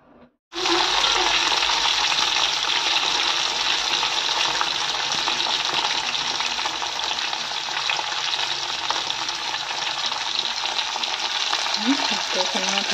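Taro fries in a pan with a loud, continuous close sizzle that starts abruptly and holds steady, with faint stirring scrapes underneath.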